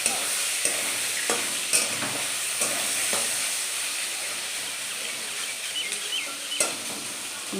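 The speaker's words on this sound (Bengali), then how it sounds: "মাছগুলো একটু নাড়াচাড়া করবো, লাল করে মাছগুলো ভেজে নেব।" Fish frying in hot oil in a wok, a steady loud sizzle broken by repeated sharp scrapes and clatters as the pieces are stirred and turned.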